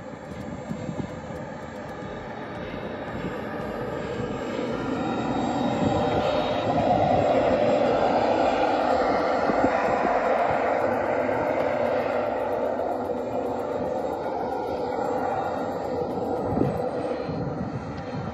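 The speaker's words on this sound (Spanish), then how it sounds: "Van a ver ahora mismo el tamaño de este avión, de este avión miniatura." A miniature remote-control airplane flies overhead, its engine a continuous buzzing drone that swells louder toward the middle and then fades slightly, heard outdoors with no talking.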